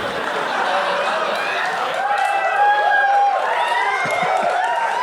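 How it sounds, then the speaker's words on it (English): Live podcast audience at a New York comedy festival show erupting in a sustained roar of cheers and whoops, loud and continuous, with crowd voices mingling throughout. "See, the crowd has gone wild."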